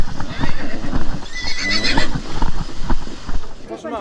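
Horse neighing loudly and repeatedly during a river washing at a Gypsy Roma Traveller community gathering, with splashing, clip-clop of hooves and voices talking throughout.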